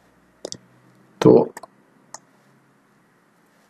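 A computer mouse clicks a few times, crisp and close, while someone works with glass materials in the Lumion 8 rendering software, with brief quiet gaps between the clicks.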